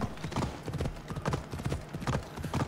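Horse hooves galloping in Assassin's Creed Odyssey, a fast, steady clip-clop rhythm close up and loud, running continuously with little else over it.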